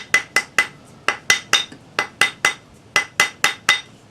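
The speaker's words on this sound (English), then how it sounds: "Now gently with your rawhide hammer," A rawhide hammer taps a fine silver bezel on a small bezel mandrel, about fifteen sharp, bright metallic strikes in a steady, uneven rhythm, close and alone.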